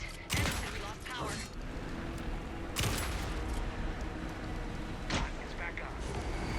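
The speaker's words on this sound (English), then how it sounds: "Anderson, pin him down with gunfire for me to get the light on him." Gunfire in the video game Alan Wake 2, with three sharp bursts standing out over a dense, noisy game soundscape of rumbling and effects.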